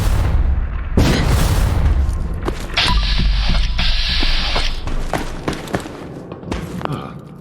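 A super rocket explodes in Fallout 4 VR with a loud deep boom, followed by rumbling debris and mechanical clatter that decays over several seconds, with no voices.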